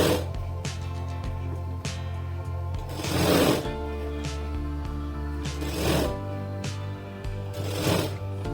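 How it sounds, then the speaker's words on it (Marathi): A sewing machine stitches a half-inch folded fabric strip onto the back of a blouse. It runs with a steady mechanical whir that speeds up in a few louder surges, with nobody talking. "तेवढा अर्धा इंच पट्टी आपल्याला पुन्हा एकदा त्याला शिलाई मारून घ्यायची"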